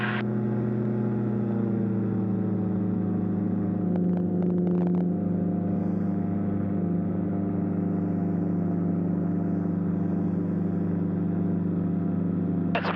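Cabin drone of a light aeroplane engine cruising at 5,200 RPM, a constant loud tonal hum with steady harmonics and a brief rattle partway through.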